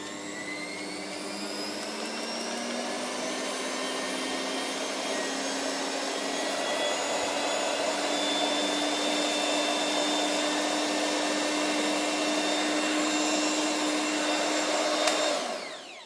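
Zelmer ZHM 2650 hand mixer running at maximum speed, a loud steady motor whine that ramps up in pitch at the start, holds a constant high drone, then cuts off abruptly near the end.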